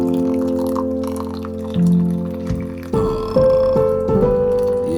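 Hot water poured from a kettle into a large mug for a vitamin C tea, heard as a close, steady liquid fill whose tone climbs as the mug fills, with a few brief shifts in the stream and no talking.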